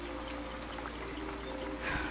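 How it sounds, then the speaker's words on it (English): Water is poured into a pan of sun-dried tomatoes in a faint, continuous trickle that runs evenly, with a small splash near the end. "I think I'm going to add more water to that"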